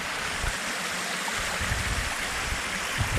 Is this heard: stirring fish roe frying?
no